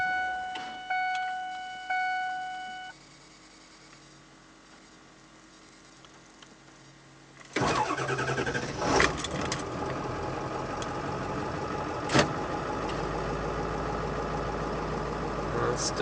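A 2001 Ford F350 with a 7.3 liter diesel, oil 5,000 miles old, cold-started on a cool 45-50 degree day: quiet ticking first, then the engine catches at once and settles into a loud, steady, rough idle.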